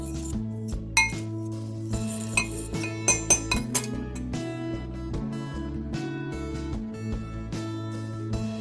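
Egg, butter and sugar mixed in a bowl for low-carb salted-egg bibingka batter, with a utensil clinking and scraping against the bowl in a quick irregular run of close taps, loudest early on.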